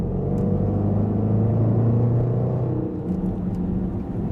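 Supercharged V8 in a Range Rover SVR gives a loud, steady low rumble under acceleration, close up and continuous, with no talk.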